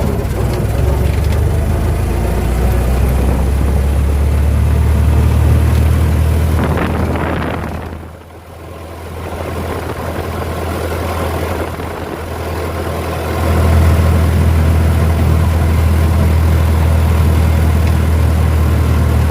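A 1922 Dodge Brothers touring car's four-cylinder engine runs steadily with a low, throbbing drone, dipping briefly midway before picking back up, loud and close.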